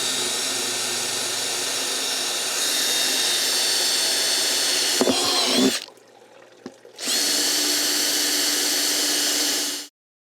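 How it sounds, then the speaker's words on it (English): A power drill bores holes through the bottoms of outdoor garden pots, a loud high whine that steps up in pitch, stops briefly for a quiet gap, then resumes before cutting off. "we will drill holes in them"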